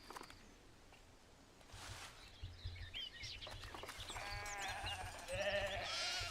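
Sheep in a video game give a few bleats near the end, mixed with light bird calls over soft ambient game sound.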